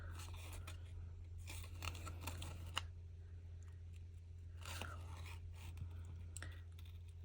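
Scissors snipping paper around stamped letters in a craft project, faint close clips and rustling in short bursts over a low steady hum, no talking.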